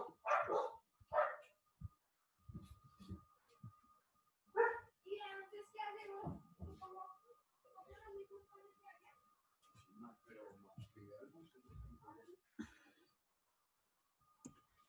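Several dogs bark in short bursts indoors, the barks rising over the background of a home with people talking nearby during an online biology class.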